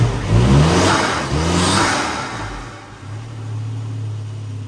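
A Volvo 240 Turbo Wagon engine revs up sharply twice, each climb falling back, then settles into a steady, even drone. It is close and loud, with no talking.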